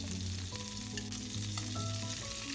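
Zucchini frying in a little oil in a pan makes a continuous, close sizzle, with faint scraping and background tones.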